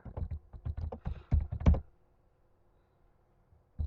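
Close, quick keystrokes on a computer keyboard while code for a matrix transpose is entered in Java Eclipse, a rapid burst of clicks that stops abruptly and leaves near silence, then one last tap.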